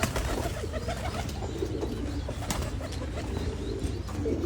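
Pigeons coo in a low, steady chorus at a pigeon farm, with occasional wing flaps and chirps close by, no voices over them.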